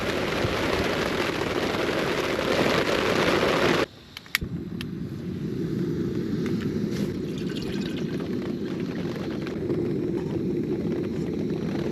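Steady broadband hiss of rain falling, loud and continuous, briefly dropping out for a moment before resuming with a softer, even patter.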